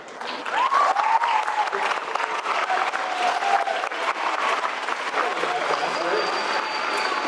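A crowd claps warmly for a guest being introduced, giving a dense, steady applause that runs throughout while a voice is heard over it.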